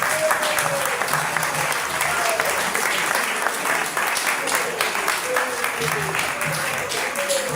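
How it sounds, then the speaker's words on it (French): Dense, sustained applause from an audience at a PDG party meeting fills the whole stretch, loud and steady, with scattered voices and shouts mixed into the clapping. "On acclame."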